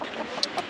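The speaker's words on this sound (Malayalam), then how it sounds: "കോഴിയൊക്കെ പുറത്തു പോകുന്നുണ്ട്" A couple of brief chicken clucks sound over steady background noise, moderately close, in a Nepali village during snowfall.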